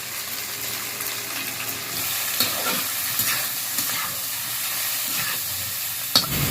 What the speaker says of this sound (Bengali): এবার আমি আলু দিচ্ছি, কেটে রাখা, সিদ্ধ করে নিয়েছি, কেটে রেখেছি। আমি হলুদ দিয়ে দিচ্ছি,